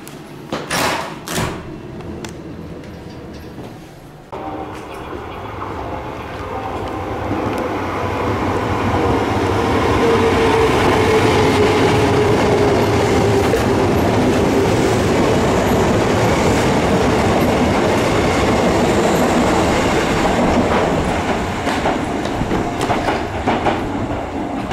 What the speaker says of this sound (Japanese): キーキー音が鳴りますね